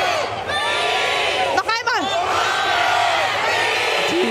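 A live crowd at a gaming convention shouts and cheers loudly in a loudness contest, a sustained roar of voices with a sharper burst of yells partway through, close and filling the space.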